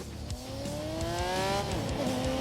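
A 5-litre 12-cylinder car engine revs steadily in The Grand Tour game, its rising harmonic whine sustained close up, with tyre noise and faint clicks underneath.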